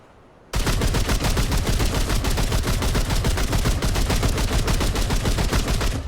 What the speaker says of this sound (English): Oh yeah, this is just an automatic DMR.